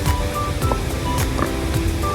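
The David Falls waterfall in Pokhara, Nepal, roars with a constant, loud rush of falling water that fills the whole moment without any voices.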